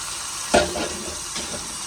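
Washed, cut fish pieces slide into hot oil in a home kitchen, giving a sudden burst of sizzling that fades into a softer, steady fry, with a second smaller flare near the end; no voices.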